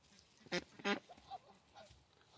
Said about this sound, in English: I heard a quack.